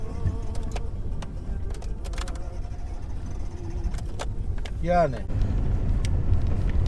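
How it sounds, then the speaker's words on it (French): Cars pass quickly along a road in Kümbet, Giresun, Turkey, making a steady traffic rumble that swells near the end, with people talking close by. "Surtout qu'en plus là elles arrivent assez vite les voitures"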